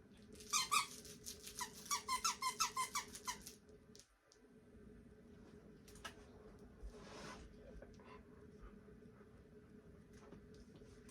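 A squeaky dog toy squeezed quickly about a dozen times in an even rhythm, close and fairly loud, then quiet room tone with a few faint rustles and taps.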